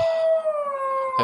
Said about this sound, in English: here goes my dog Wolf.